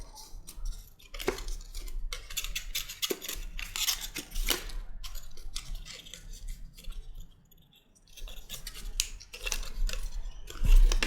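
Card box pieces are creased and folded along score lines by hand, giving a series of crisp close crackles, snaps and rustles in irregular bursts with a brief quiet pause midway.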